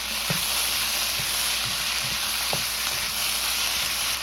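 Ginger, garlic, scallion and a little sesame oil sizzle steadily in a large wok, a constant close frying hiss with a few soft clicks of a utensil, no voices.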